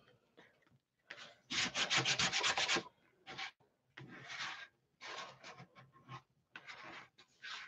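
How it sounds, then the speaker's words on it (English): A paper envelope junk journal page is burnished down in several rubbing bursts, close and fairly quiet, with short pauses between strokes. "now flip it back over and I'm going to burnish it down."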